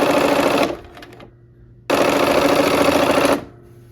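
A sewing machine stitches the last triangle onto a quilt block in two loud, steady bursts, a brief pause between them, with no talking.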